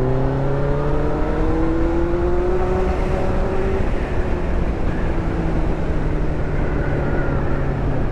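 A Benelli 600GT motorcycle's exhaust runs steadily and loudly up close, a continuous engine drone whose pitch rises and falls slightly as it revs.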